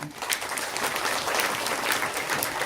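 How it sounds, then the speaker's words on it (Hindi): Loud, steady applause from an audience at a Hindu satsang spiritual gathering in Ghaziabad, dense clapping filling the whole stretch with a faint murmur of voices underneath. "तो एक बार इनके लिए जोरदार तालियां।"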